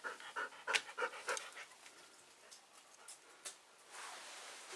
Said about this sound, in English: That's a crazy dog.